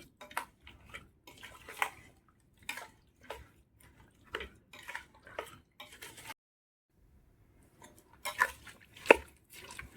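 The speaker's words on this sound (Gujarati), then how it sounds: "આ બધું એક રસ થઈ જાય ત્યાં સુધી એને મિક્સ કરવાનું" Oil, pickle spice mix and mango pieces for a sweet Gujarati gol keri pickle are stirred together in a bowl: intermittent wet, squelching strokes and soft clinks of the spoon, fairly quiet, with brief pauses between bursts.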